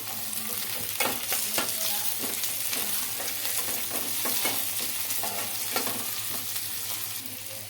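Chopped tomatoes frying in a pan with onions and curry leaves for an egg masala curry, a dense continuous sizzle with frequent stirring scrapes and clicks, close and fairly loud.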